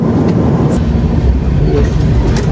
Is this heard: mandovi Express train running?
yes